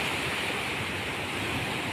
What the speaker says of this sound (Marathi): हे बघा लाट बघा मित्रांनो